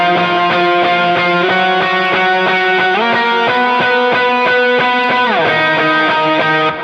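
Electric guitar plays sustained octave shapes with extra gain and a quarter-note delay, notes ringing and repeating in rhythmic echoes, shifting pitch a few times, loud and close with no voice.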